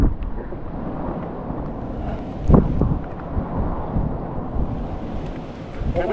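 Strong wind on Mount Santo Tomas near Baguio, at the foggy Valley Point campsite, roars and buffets the microphone in low gusty rumbles, with one sharper blast partway through and no speech.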